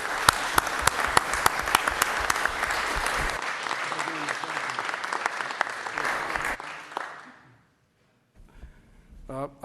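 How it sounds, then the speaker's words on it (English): An audience at a city council meeting applauds tournament winners: dense, sharp clapping carries for several seconds, then fades to near silence before a faint stir of sound resumes. "Please give them a hand of applause."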